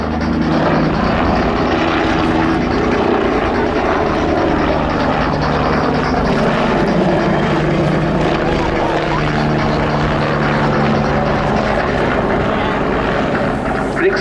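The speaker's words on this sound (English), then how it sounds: "Rigid rotor that helps give the Bull 105 this remarkable aerobatic performance." A Bo 105 helicopter with a rigid rotor flies aerobatic display manoeuvres at an RAF air show, its engine and rotor noise a loud, steady roar throughout, with a commentator talking over it.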